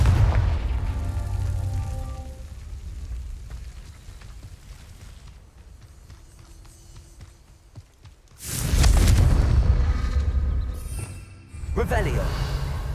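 In Hogwarts Legacy, Confringo fire spells erupt in two heavy booming blasts late on, each loud and close with a rumbling tail, after a stretch of quieter rumble and spell whooshes.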